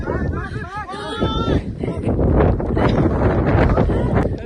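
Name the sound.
strong wind on mountain summit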